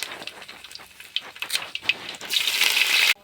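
Mustard seeds, dried red chillies and curry leaves crackling and sizzling in hot oil, with scattered pops building into a loud, dense hiss of frying close by.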